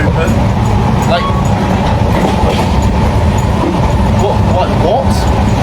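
An Indian local passenger train rides with its doors left open, a loud continuous rumble and rattle of wheels and carriages with wind noise and faint squeals, and voices talking in the crowded car.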